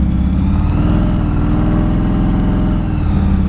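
A custom 1933 Ford hot rod pickup truck with a blower drives down a quiet residential street, its engine giving a loud, steady, throbbing rumble close by, with no talk.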